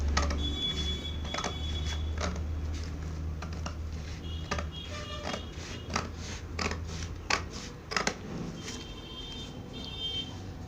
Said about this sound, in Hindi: इसको हमको ड्राइंग पे कैंची चलाना है।